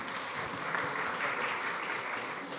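Audience applause at a food summit panel, a moderate wash of many hands clapping steadily from a distance, fairly faint and even, without talk over it.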